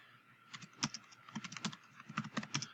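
Fingers typing a new folder name on a computer keyboard, a quick irregular run of close, crisp key clicks in bursts with short pauses, heard alone.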